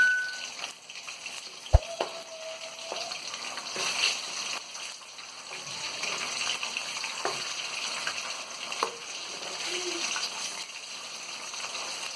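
Chicken 65 pieces fry in hot oil with a steady, close sizzle and bubbling, and a few sharp clinks of the pieces being turned.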